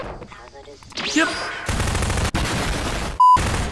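Gunfire in the Half-Life 2 game, several loud bursts of shots and blasts with a sharp electronic beep near the end, mixed under excited talk.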